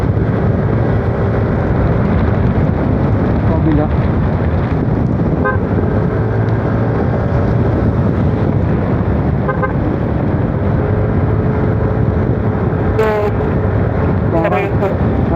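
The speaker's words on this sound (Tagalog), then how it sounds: "Yun ang traffic ngayon oh." Road traffic passing in a loud steady stream of engines and wind rumble, with a few horn toots near the end; people talk over it now and then.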